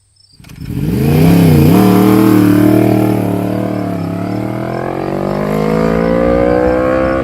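A motorcycle engine starts up and revs hard close by, holding loud high revs with wavering pitch that climbs steadily toward the end.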